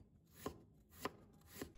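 A knife cuts through a peeled fresh ginger root on a cutting board, making three crisp, evenly spaced chops, close and fairly quiet, with no talking.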